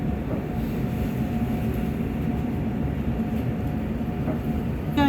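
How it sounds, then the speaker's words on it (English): Steady, even rumble of a train carrying passengers back into Bilbao, a continuous low rolling drone with faint track noise throughout and a brief louder swell at the very end. "we got the train back into Bilbao"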